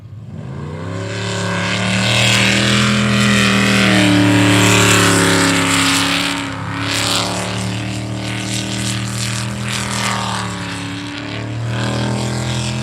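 A 400-class racing powerboat, boat 146A, roars past at speed during a qualifying race, its loud droning engine rising as it approaches, then easing and rising again as it moves away, with no talking.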